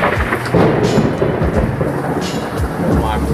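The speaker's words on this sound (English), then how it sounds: "We had this crazy lightning storm in the Bay Area the other day." A lightning storm in the Bay Area brings rolling thunder rumbles over steady, loud rain, with low crackling booms recurring throughout.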